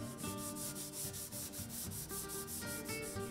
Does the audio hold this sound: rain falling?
no